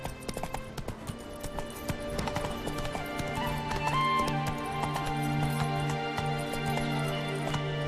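Horse galloping in The Witcher 3, a steady rapid clip-clop of hooves running continuously, close and prominent over a busy background of game music and ambience.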